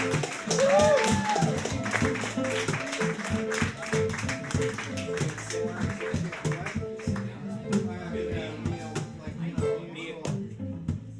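An audience claps, clicks and stomps for a comedy-show performer, a busy patter of hits at moderate level that runs on steadily under a voice talking.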